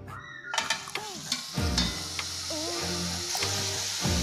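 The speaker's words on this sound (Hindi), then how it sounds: "एक बार फिर हम इसे डीप फ्राई करेंगे ताकि और क्रिस्पी हो जाए" Potatoes for honey chilli potato are deep fried a second time in hot oil for crispiness, a steady sizzle running throughout with scattered clinks and stirring scrapes of a utensil in the pan.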